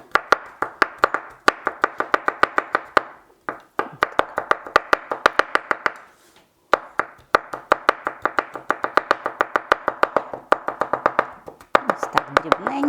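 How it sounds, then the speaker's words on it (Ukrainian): Rapid knife chopping of a garlic clove on a cutting board, quick sharp taps in rhythmic bursts separated by short pauses, close and fairly loud. "І зубчик чеснику. Так, посікти."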